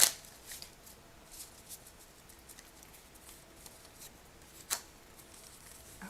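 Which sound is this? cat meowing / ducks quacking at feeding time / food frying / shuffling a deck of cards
shuffling a deck of cards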